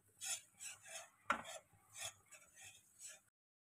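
Flour is stirred and roasted in a pan for a white sauce pasta, giving a series of soft, close scraping and rubbing strokes in an even rhythm, with one sharper knock near the middle and no voices.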